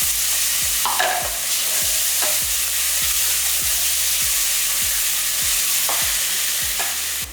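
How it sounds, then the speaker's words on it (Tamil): Ground spice paste for crab soup sautés in a hot pan, a loud, continuous, close sizzle with a few faint stirring scrapes over a steady low mechanical ticking. "கொரன்னு அரைச்சி வச்சுருக்க இந்த விழுதை எடுத்து வச்சுருக்கலாம் வெளியே நல்லா வதக்கட்டும்"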